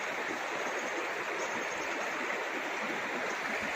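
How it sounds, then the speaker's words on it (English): A big river in the Australian Alps along the Australian Alps Walking Track rushes steadily nearby, a dense continuous roar of flowing water with no voices over it. "Here we are, big river, which turns into the Midda in a day or two's time."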